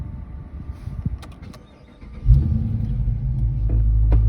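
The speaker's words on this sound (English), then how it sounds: "Let me actually start the car. My favorite thing to start up is a V8." A 2020 Dodge Charger Daytona's V8 engine cranks and fires at close range, catching at once into a loud, deep, steady idle rumble that carries to the end with no talk over it.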